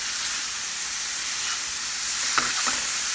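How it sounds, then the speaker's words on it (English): Salted zucchini sizzles steadily in a hot pan while being stirred, a close, even frying hiss with a couple of soft scraping stirs near the end and no talking. "I want to continue to mix it as it cooks, and I'm only going to cook it for about 5 minutes"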